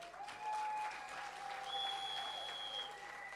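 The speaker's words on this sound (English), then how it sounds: "Ladies and gentlemen, a round of applause for Mr." A crowd at a political town hall in Castries, St. Lucia, claps steadily in sustained applause, with a few high whistles and faint voices mixed in.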